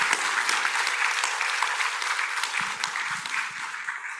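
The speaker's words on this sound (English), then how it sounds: "please give a round of applause to the panelists" Audience applause for the panelists closing a session of the JIRCAS international symposium on agriculture, forestry and fisheries technology in monsoon Asia: a dense, even wash of many hands clapping in a large hall, steady and uninterrupted, with a faint murmur underneath.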